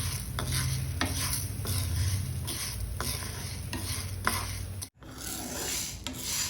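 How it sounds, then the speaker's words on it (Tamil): Green gram dry-roasting in a pan over medium heat gives a dry rasping scrape, each stir stroke repeating steadily. The sound drops out briefly, then the scraping resumes, close and fairly quiet. "நல்ல மிதமான தீயில வச்சு நம்ம ட்ரை ரோஸ்ட் பண்ணி எடுக்கணும்"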